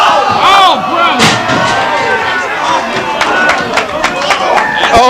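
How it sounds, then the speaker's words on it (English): A loud wrestling arena crowd roars and cheers at an independent pro wrestling match as fans rise to their feet, close and sustained, with sharp impacts and shouting voices mixed into the din. "Oh, and the crowd's on their feet."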